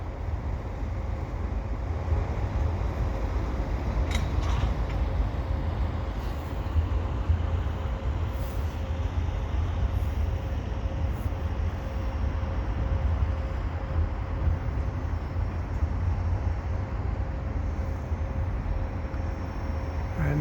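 A long CP eastbound mixed freight train rolling past at Dorval in winter, a continuous low rumble of wheels and cars with a faint steady tone and a few sharp squeaks, unbroken throughout.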